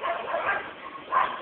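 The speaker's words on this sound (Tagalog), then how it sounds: "si Harry tumatahol sa taas" A dog barks upstairs in a house: a few short yipping barks, slightly muffled and moderately loud, with a brief pause before a final bark.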